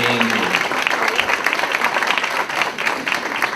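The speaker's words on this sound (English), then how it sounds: "how about a warm round of applause for Board Member Bennett Kaiser" An audience at a school event in a 96th Street community setting gives a warm round of applause, a dense, continuous wash of many hands clapping nearby for several seconds.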